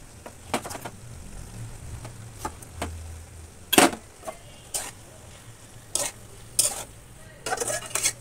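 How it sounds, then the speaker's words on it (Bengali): Bottle gourd with poppy seed paste being stirred in a pan, irregular scraping and clinking strokes over a soft background sizzle, close by, with no talking. "নাড়াচাড়া করে নামিয়ে নেবো।"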